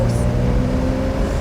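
A 2020 Porsche 911 Carrera Cabriolet pulls away, a steady droning engine note with road rumble, heard briefly from inside the car.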